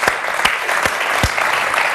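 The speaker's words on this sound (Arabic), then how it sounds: "تصفيقة كبيرة عليهم." A TV studio audience applauds in a steady, loud burst of clapping, with a few sharper claps standing out in the dense patter.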